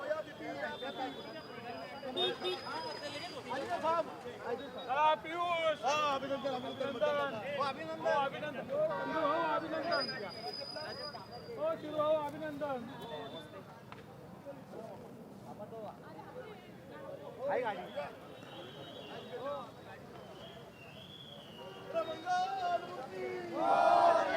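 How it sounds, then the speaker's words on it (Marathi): A crowd of BJP party workers celebrates an election victory on a road in Pune's Ward 25, with a dense, loud roar of cheering and shouting that runs continuously and swells again near the end. "विजयी उमेदवार असतील त्यांचे कार्यकर्ते असतील त्यांच्याकडून सगळा जल्लोष जो आहे तो या ठिकाणी केला जातोय"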